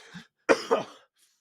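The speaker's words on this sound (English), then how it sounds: "My lips at the last minute tried to reach out and grab that cough and bring it back in." A single loud, close cough with a short double burst, preceded by a softer throat sound, then quiet.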